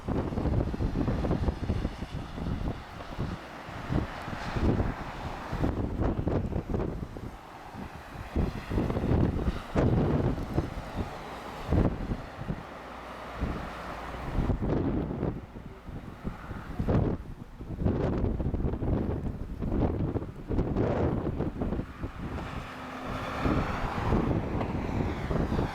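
Strong gusty wind buffets the microphone as a Lufthansa airliner lands at Madeira Airport, rough roaring noise mixed with aircraft engine rumble, continuous and loud with fluctuating bursts.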